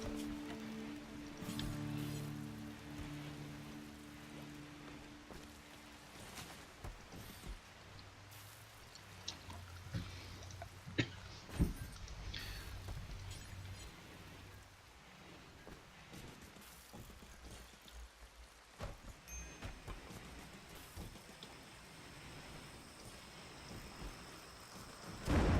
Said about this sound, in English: Oh, this rain, man.